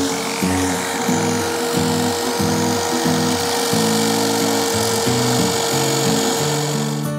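An electric drill finishing the surface of a coconut-shell soap dish, giving a close, sustained motor whine with rhythmic grinding bursts and pitch shifts as the tool presses into the shell and eases off, with no talk.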